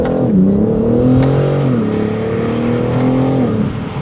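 A 2021 BMW M4 Competition engine revs and pulls hard onto a highway, its pitch climbing steadily through the gears with a brief drop at a shift, loud and close from inside the cabin.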